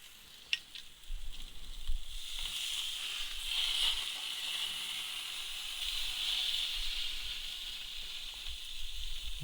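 Steak sizzles steadily on a gas grill just after being flipped, a continuous bright hiss with a few pops and clatters early on, close and fairly quiet with no talking.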